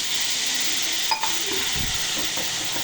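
Vegetables with spices and sauce sizzle steadily in a pan after water goes in, a constant close hiss with a brief clink of a utensil and soft stirring scrapes partway through.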